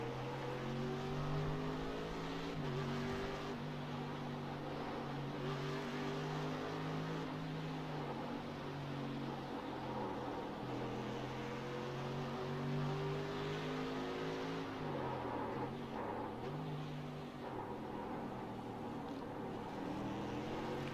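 Race car engine, heard from onboard while running in a race at the Nürburgring Nordschleife and passing a Ferrari on the track, drones loud and steady through the whole stretch, its pitch rising and falling with each gearshift and corner.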